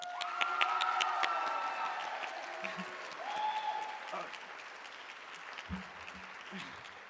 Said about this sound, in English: let's have another round of applause for all the wonderful nominees and winners for Hunchback